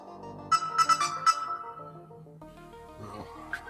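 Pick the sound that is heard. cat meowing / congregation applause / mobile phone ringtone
mobile phone ringtone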